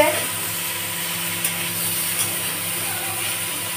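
Food sizzles steadily in a pan as Chef Suchitra cooks, a continuous hissing fry with a couple of faint clinks, fairly close and unaccompanied by talk.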